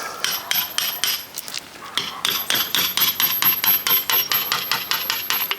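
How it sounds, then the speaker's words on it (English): Hammer and chisel chip away stone around a cottage window opening, a close run of sharp metallic taps in steady rhythm that speeds up toward the end. "Always sort of chisel outwards so it's got somewhere to go, doesn't damage your stone."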